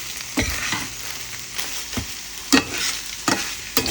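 Soaked soybeans go into a pan of fried spice masala, bringing a steady sizzle and fry close by, with scraping stirs and clinks of the spoon at intervals.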